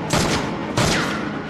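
Two bursts of rapid gunfire in an action film shootout, each a loud sharp volley, roughly two-thirds of a second apart.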